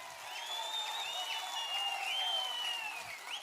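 Steady applause from a political rally crowd for Chandrababu Naidu in Palamaner, Chittoor district, sustained and moderately distant, with a faint crowd murmur underneath.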